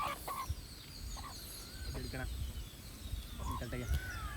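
Rooster clucks and squawks scattered through the clip, with bursts of wing flapping, close by over a steady background hum; a native country rooster, about ten months to one year old.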